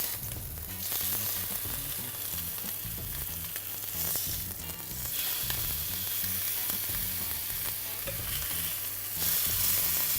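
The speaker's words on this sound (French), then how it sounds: "on va juste saisir légèrement. On saisit légèrement." A veal fillet mignon sears lightly in a hot pan, sizzling continuously up close, with soft stirring and handling noises and a low rhythmic hum running beneath.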